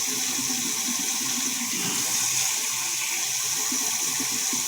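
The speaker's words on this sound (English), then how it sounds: "I'm using my tap water. My tap water gets so hot that I can't put my hand under it" Hot tap water running from a kitchen faucet: a steady, close, hissing gush of flowing water for the full few seconds, alone with no voices.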